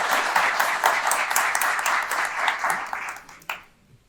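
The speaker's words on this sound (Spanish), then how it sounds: "Así que nuevamente demos un aplauso por todo este recorrido que han tenido." A conference audience applauds with dense, steady clapping that fades out over about four seconds.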